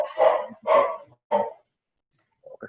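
A dog barks three times in a quick, fairly loud run indoors at home, followed by a pause and a couple of softer yips at the end.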